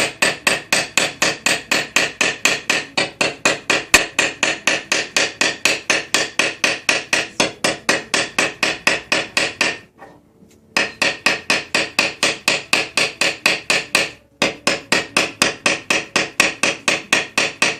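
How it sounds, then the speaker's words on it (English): Rapid, regular hammer blows shaping a solid metal rivet for jewelry, loud and close, ringing metallic taps repeating in a fast even rhythm, with two brief pauses before the striking resumes. "I'm just going to come through with the hammer"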